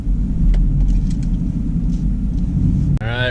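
A Jeep descends a mountain trail on Storm Mountain in Colorado in first gear, with hill descent control engaged, while being towed during a recovery. Its engine holds a deep, steady, close rumble. A brief voice cuts in at the end.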